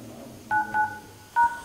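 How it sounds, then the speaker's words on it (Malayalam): A phone's dialer keypad plays short electronic DTMF tones while *99# is typed, three crisp beeps with brief gaps, close and clear against quiet background. "*99# എന്ന് ടൈപ്പ് ചെയ്യുക,"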